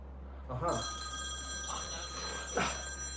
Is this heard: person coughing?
no